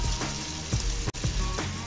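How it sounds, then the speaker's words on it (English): Fish simmers in gravy in a pan, a steady close sizzle and bubbling crackle running throughout with no talk. "let the fish simmer in this nice gravy for a while"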